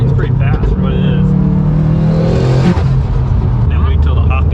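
A tuned Subaru STI engine revs hard with turbo whistle, a loud steady drone that swells and drops midway, while people talk over it throughout.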